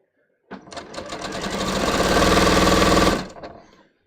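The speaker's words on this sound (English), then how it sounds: "I'm going to sew a little bit more." Close up, a sewing machine runs a seam on a bias cut scoop neck top. After a short silence it starts with one sustained mechanical whir that speeds up, holds for about three seconds, then winds down and stops.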